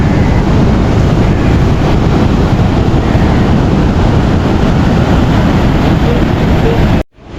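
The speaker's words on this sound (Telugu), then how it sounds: "అలలు అయితే మస్తు గట్టిగా వస్తున్నాయి దోస్తులు." Strong ocean waves pound the shore at Kovalam beach in Kerala, a dense, loud, continuous roar of surf mixed with wind buffeting the microphone, running unbroken before cutting off abruptly at the end.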